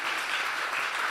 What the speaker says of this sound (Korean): 우리 격려의 박수 드리겠습니다.